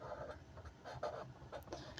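Faint, short scratchy strokes of writing on a board come in quick irregular bursts against a quiet room, with no talking.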